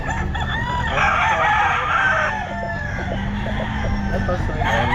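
A Red Kelso gamefowl rooster crowing at a busy pet market, a drawn-out crow over steady crowd noise, with clucking fowl and people talking nearby.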